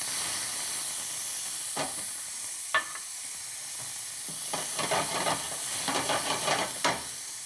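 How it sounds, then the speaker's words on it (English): Chopped onions fry in a pan that previously held scallopini, a steady bright sizzle with occasional louder crackles and stirring scrapes near the end, close and continuous with no voices. "In the same pan where we cook the scallopini, we go first with some chopped onions."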